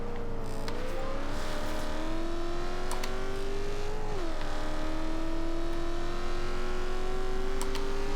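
A 2000 Ford Mustang SVT Cobra R drives in the racing game Forza Horizon 2. Its engine holds a steady, close drone that shifts pitch slightly through gear changes for the whole stretch.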